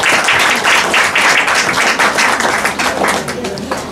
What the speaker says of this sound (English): A big round of applause for all the donors.